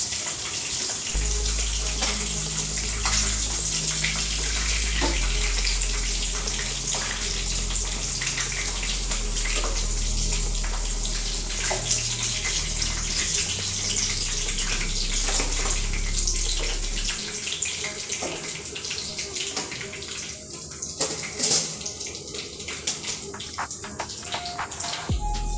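Chicken kebab pieces deep-fry in oil with a continuous, dense, rushing sizzle much like running water, close and steady throughout with a few brief pops, and no one speaking.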